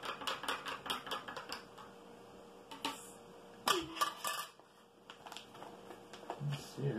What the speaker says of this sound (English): And I will get this accessory pack open here.